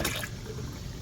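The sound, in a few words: pouring baking soda solution into water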